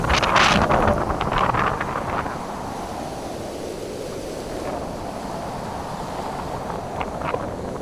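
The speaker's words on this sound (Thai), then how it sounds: "ฟังเสียงลมออกครับ" Strong storm wind that has been tearing roof sheets loose roars steadily into the microphone, with heavier buffeting gusts at the start and a constant rushing texture throughout, with no voices.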